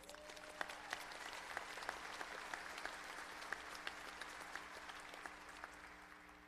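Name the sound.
audience applause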